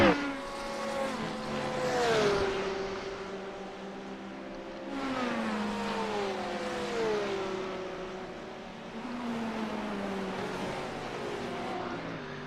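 Porsche GT3 race car at Lime Rock Park on a wet, foggy race day, its engine note sweeping down through gears as it brakes, then rising again in repeated loud passes, steady and close with no talk.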